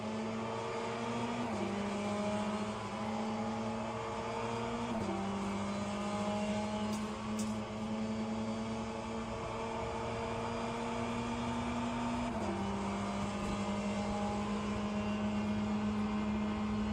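GT3 race cars battle nose to tail in Le Mans Ultimate, their engines droning loud and steady, with pitch steps at each gear change and a second car's note layered close behind.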